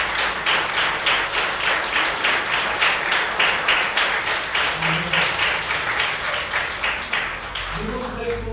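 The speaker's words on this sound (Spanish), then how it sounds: "Den un aplauso al Señor." A church congregation claps in a steady, fast rhythm for several seconds, loud and close, and the clapping fades near the end as a voice begins.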